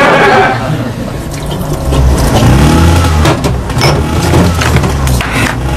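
A Bajaj auto rickshaw's small engine runs loud and close, rising and falling in revs with a rattly mechanical drone, while voices talk faintly at moments.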